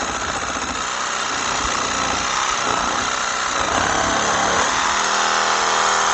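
A reciprocating saw runs on its first speed setting and cuts a small branch under load, a steady loud mechanical buzz and rattle that holds without a break, with a slight tonal shift toward the end.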